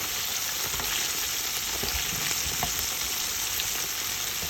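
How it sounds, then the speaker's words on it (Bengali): Chicken pieces deep-fry in hot oil for sweet and spicy sesame chicken, a loud, dense, even bubbling sizzle with scattered pops, continuous and close, no talk. "চিকেনগুলোকে এভাবে উল্টে পাল্টে ভেজে নিব যাতে চতুর্দিকে সমানভাবে ভাজা হয়"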